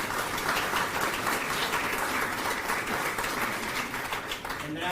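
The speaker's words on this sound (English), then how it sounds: "Let's give a big round of applause for that whole group." Steady, dense applause from a festival audience at the 90th Texas Rose Festival parade queen and theme announcement, a continuous wash of clapping at even loudness that holds throughout and dips slightly at the end.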